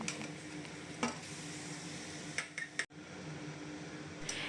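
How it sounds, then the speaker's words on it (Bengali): Onions and marinated meat frying together in a pan, with a low steady sizzle under several brief scraping stirs of a spoon, one sharp knock near the middle, and no talking. "এবার একটু পেঁয়াজের সাথে মাংসটাও ভেজে নিচ্ছি"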